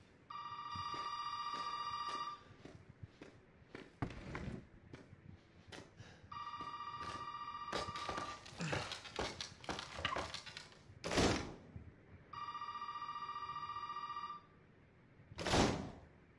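An old telephone bell in the video game Resident Evil 7 rings in three long bursts, separated by pauses filled with thuds, clatter and movement noises.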